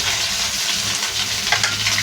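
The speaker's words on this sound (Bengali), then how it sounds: "এই দেখো ফলই মাছটা ভেজে নিচ্ছি।" Fish, a foli fish, frying in hot oil in a kitchen pan gives a steady, close, bright sizzle and crackle throughout, with no talking.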